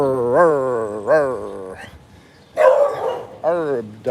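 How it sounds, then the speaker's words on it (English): Dogs bark in a neighborhood in the Philippines, a few close, drawn-out barks and yelps in short bursts with a person's voice around them. "Dogs everywhere."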